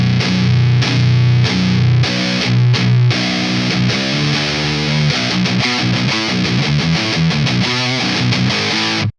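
Electric guitar through a high-gain distortion pedal plays loud, fuzzy chords and riffs with thick sustain, close and alone, ending abruptly.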